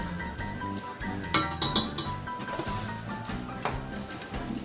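Flour being stirred into a crawfish sauté in a pan, with repeated metallic clinks and scrapes of a utensil against cookware, fairly close and busy.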